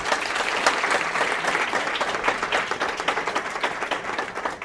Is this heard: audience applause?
yes